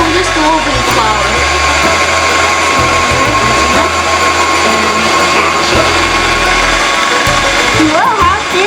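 Electric pasta machine rolling lamb ravioli dough in a home kitchen, a loud, steady motor whine with grinding undertones running throughout, while voices talk over it.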